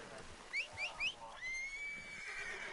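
A horse in Red Dead Redemption 2 gives three short rising whinny bursts, then a longer drawn-out neigh, close and clear over faint background noise.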